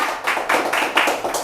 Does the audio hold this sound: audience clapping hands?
yes